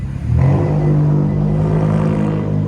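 A car engine revs loudly and steadily, a deep rumbling growl that holds for a few seconds close by.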